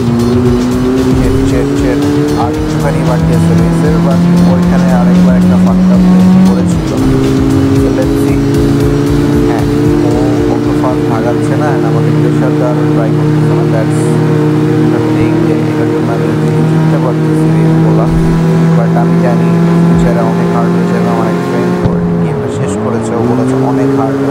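A car drifts in the CarX Street racing game, its steady engine drone holding and shifting pitch with a brief squeal of tyres, loud and continuous throughout.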